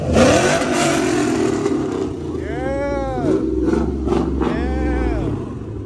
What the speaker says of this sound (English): A light rev, like a little tap.